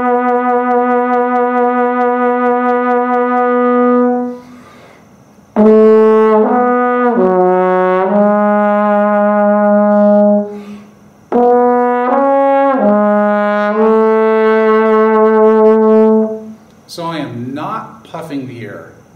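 Trombone played with embouchure or jaw vibrato, sustained harmonic-rich tones in a descending and rising phrase with slight pitch wavering, broken by short pauses and ending in a brief spoken comment.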